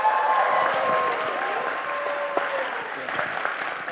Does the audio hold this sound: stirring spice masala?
no